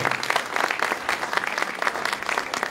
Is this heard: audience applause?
yes